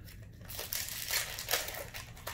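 Crinkling foil wrapper of a Magic: The Gathering Ikoria collector booster pack being torn open, a close run of sharp, irregular crackles and crumples that swell in bursts over a couple of seconds with no talking.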